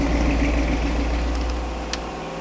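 A Ford 460 big block V8 running through Super 40 mufflers gives a steady, deep, loud idle rumble with a pulsing low burble and a faint click near the end.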